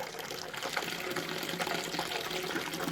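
Water trickles and splashes steadily through a slightly opened valve on an electric home brewing system, a continuous close liquid gurgle with no talking.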